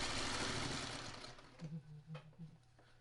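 A domestic sewing machine stitches a traditional four-patch quilt block, a dense mechanical whir that runs steadily, then breaks into short repeated bursts as the fabric is picked up and sewn, close and alone.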